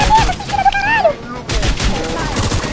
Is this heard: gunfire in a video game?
yes